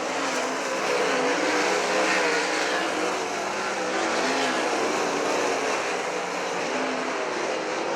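Sprint cars race through the turns at a dirt raceway, a dense, distant roar of several engines blending into a steady wash of noise without pause.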